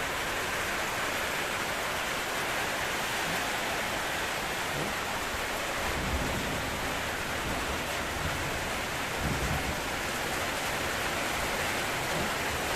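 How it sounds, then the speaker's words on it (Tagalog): Steady, dense rain hissing down onto a flooded street, a constant wash of sound with faint deeper splashes here and there, nobody speaking. "Tapos pa naman ulan."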